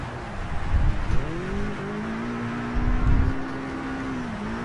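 In Project Cars 3, a race car slides on a wet track: the engine note climbs and dips while short bursts of tyre scrub rise under it. No one speaks.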